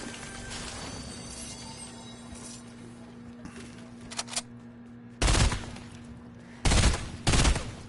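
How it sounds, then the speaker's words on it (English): Burst rifle fire in Fortnite arrives as loud, sharp bursts of several quick shots. Three distinct volleys stand out near the end over a quieter background of distant scattered gunfire. "Oh great, burst rifles again."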